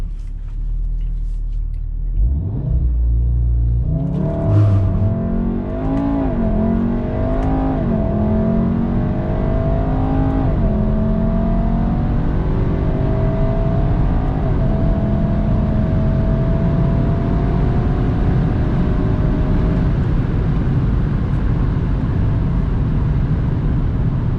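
Unitronic-tuned VW Golf R MK7 launching hard with launch control, the engine building from a low rumble into a loud rising roar through several gear shifts, with brief drops between, then fading as speed settles.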